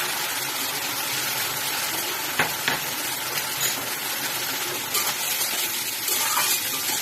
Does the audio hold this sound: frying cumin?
yes